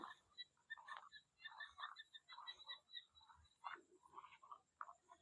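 Frogs call in an open field at dusk, a faint, scattered chorus of chirping croaks drifting from a distance in the evening air.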